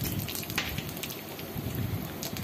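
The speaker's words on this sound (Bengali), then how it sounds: "এই তেলের মধ্যে জিরা, দারচিনি, এলাচ, লবঙ্গ ফোড়ন দিয়ে দিচ্ছি" Cumin, cinnamon, cardamom and cloves sizzle in hot oil, a soft continuous crackle and hiss with scattered pops, fairly quiet and close.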